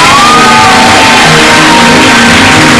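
A church congregation cheering loudly to welcome Pastor Antoine Rutayisire, a dense roar of shouts and whoops from the crowd filling the room at high, saturated volume.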